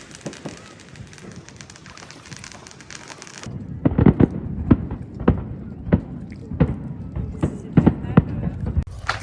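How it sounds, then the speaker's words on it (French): Fireworks pop and crackle all around a neighborhood in Michigan, with a steady hiss at first and then a series of sharp, irregular bangs at varying distances, some near and loud, some far. "Il y a vraiment des feux d'artifice de partout."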